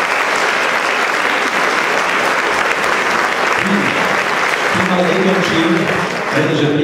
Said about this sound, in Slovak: Takže veľký potlesk za pani riaditeľke